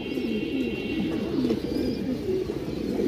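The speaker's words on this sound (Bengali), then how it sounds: "পিওর অরিজিনাল সবুজ গলা মাদি কবুতর" Soft, repeated throaty coos from a green-necked female pigeon, steady and close, running on with no talk over them.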